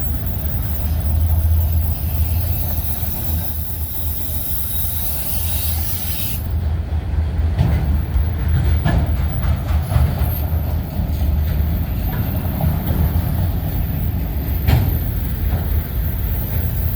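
A train with new cars rolls past nearby, its loud steady rumble and rattling wheels filling the whole stretch, with clicking joints and a faint squeal now and then.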